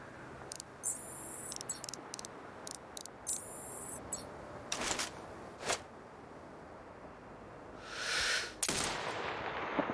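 Sharp, distant-sounding sniper rifle shots in the PC game Sniper Ghost Warrior Contracts 2, several cracks and ticks scattered across a quiet ambient bed, with a longer burst of noise near the end.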